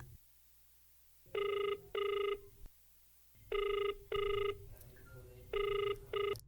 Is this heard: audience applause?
no